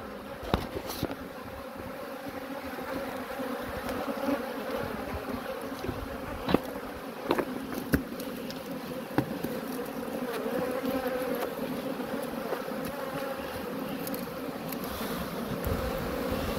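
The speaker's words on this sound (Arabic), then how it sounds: "لكي يجمع فيه النحل" Honey bees buzz in a crowded summer beehive, a dense continuous hum at moderate level with scattered light knocks and handling clicks, and no voices.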